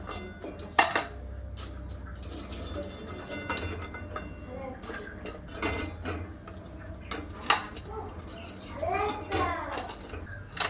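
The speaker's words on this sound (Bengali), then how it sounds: "তো আমি এবার প্লেটে তুলে নেব গজাগুলো" Fried bread gaja sweets being moved onto a plate, with clinks and scrapes of utensils against dishes at close range, scattered through a steady background hum and bits of voice.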